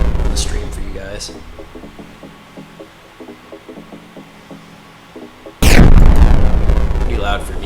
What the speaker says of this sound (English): Hope those explosion sound effects aren't like super loud on the stream for you guys.